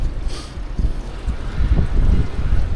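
Gusty wind on a balcony buffets the microphone with low, rumbling bursts that rise and fall continuously.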